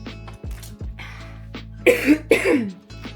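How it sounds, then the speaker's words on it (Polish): Two harsh coughs in quick succession from a runner at the Cracovia half marathon stand out over a steady low hum, with quieter breathy sounds before and after. "Kaszle mnie,"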